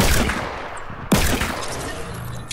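Gunshots in a shooter game, a sharp loud report cutting through continuous dense in-game noise, with a steady rumbling background before and after.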